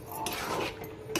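A ladle scraping and knocking inside a cooking pot as spiced bhuna khichuri is stirred, with close metallic clinks, two sharper scrapes, and no talking.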